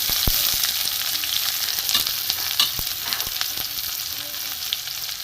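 Chopped garlic and onion frying in hot oil already tempered with spices give a loud, steady crackling sizzle, with scattered sharp pops and the scrape of stirring close by.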